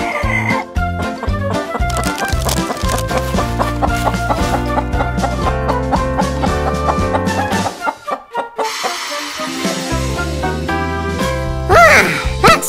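Toy-style chicken clucking sounds in a children's toy story, set over a busy bright musical backing, with rhythmic clucks and a squawk toward the end; no talking.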